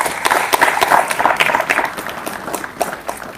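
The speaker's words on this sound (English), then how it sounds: "I'll ask you to give Brother Johnson a round of applause" Applause from a church congregation in Bassendean, Perth for Brother Johnson: a dense patter of many clapping hands, loud and close, building and then tapering off over a few seconds.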